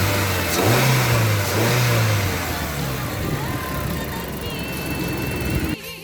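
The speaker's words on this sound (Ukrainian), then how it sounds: "погазуємо." Small petrol engine of a Mitsubishi Colt under the open bonnet, revved in a few rising and falling bursts over a steady idle, loud and close, with a brief clunk at the end.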